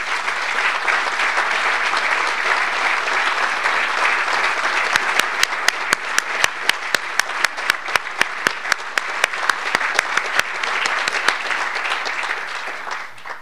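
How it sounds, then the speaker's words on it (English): A crowd applauds steadily at a military homecoming event honoring a service member's family, with one nearby pair of hands adding sharp, rhythmic claps partway through before the clapping fades. "Let's give them an applause to remember as they go to greet their son."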